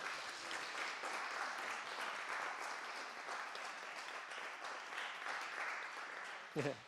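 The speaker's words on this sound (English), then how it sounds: "big round of applause for Neka" Steady applause from a small group at a certificate ceremony, even clapping sustained throughout, ending as a voice speaks up over it.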